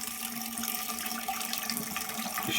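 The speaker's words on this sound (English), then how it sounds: "when it runs hot, it's a tiny, tiny trickle" Water runs from a Moentrol shower valve, a steady hissing flow with a faint tonal whine that continues unbroken and close, with no voices over it.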